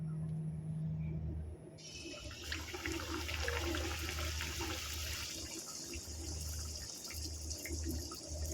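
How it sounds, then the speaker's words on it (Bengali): Pieces of flour dough for a quick breakfast snack frying in hot oil over medium-low heat, giving a steady, dense sizzle and crackle that runs unbroken throughout. "তেল গরম হয়ে গেছে। আর এক এক করে ভেজে নেব।"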